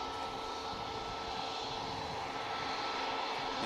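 At Manchester Airport, an Aer Lingus jet airliner's engines give a steady, broad roar heard from a distance at moderate level, with no voices over it.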